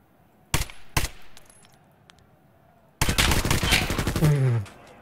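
Gunfire in Tarkov Arena: two sharp single shots close together, a pause with faint background, then a loud sustained burst of rapid fire ending with a clinking rattle.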